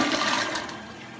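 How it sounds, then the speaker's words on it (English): Flushing toilet on a double flush after a new install, with debris thrown in the bowl: a loud, rushing gush of water that fades slightly over the short span, with no talk. "And do the double flush."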